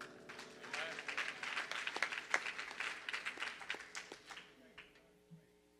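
Small church congregation giving a round of hand claps at an evening service, a cluster of distinct claps that swells and then thins out, with a few voices mixed in.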